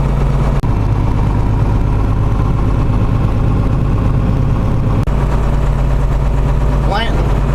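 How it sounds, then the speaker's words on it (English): Old restored John Deere 4430 tractor engine idling loudly and steadily close by, a constant low-pitched rumble with a brief dip near the start. "This old tractor's a pretty solid old tractor."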